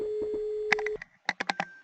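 A telephone rings during an airline check-in training session: a steady electronic tone is followed by a series of short, evenly spaced pulses, fairly faint and apparently from elsewhere in the room.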